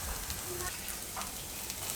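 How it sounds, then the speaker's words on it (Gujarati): A bajra and potato paratha roasting on a hot pan, a soft steady sizzle with faint crackles, quiet and continuous. "આ રીતે તો બે બાજુ એને શેકી લેવું"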